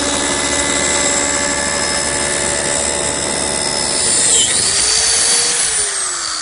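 A biscuit joiner cuts a slot into a plywood brace for a media press frame, a loud, steady high-pitched whine running throughout, its pitch shifting near the end as the blade spins down.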